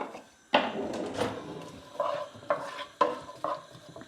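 Garlic stirred in olive oil with a wooden spoon over high gas heat: close, rhythmic scraping strokes against the pan, each with a burst of sizzling, repeated about six times.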